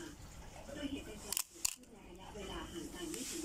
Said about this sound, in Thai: ชัตเตอร์4ครับ